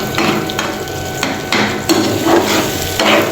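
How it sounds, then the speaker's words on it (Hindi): Four eggs are cracked into fried masala in a pan for egg bhurji and sizzle steadily while a spatula stirs and scrapes in repeated strokes. The sounds are close and loud, with no talking. "बस मसाला भून गया, इसमें 4 ही अंडे तोड़ के डाल दिए।"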